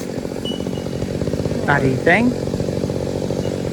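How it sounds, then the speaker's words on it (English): A chainsaw idles with a steady rattling putter near a large fallen gum tree cleared from a fence, while people talk briefly over the engine. "how did the chainsaws go today?"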